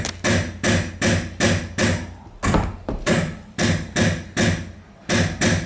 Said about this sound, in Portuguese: Agora olha aqui quando eu bater nos tirantes